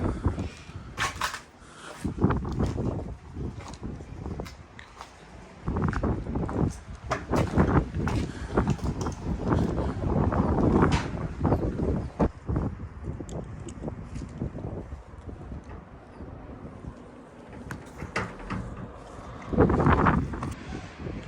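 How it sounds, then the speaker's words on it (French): Gusty wind blows while shutters on a small barracks house at an abandoned US military base repeatedly knock and bang irregularly, some thuds sharp and close, others duller, over a rough, roaring background. "avec le vent qui fait battre les volets"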